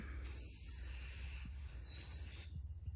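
A steady aerosol spray hisses continuously for a couple of seconds, then cuts off, leaving faint low rumble and handling noise.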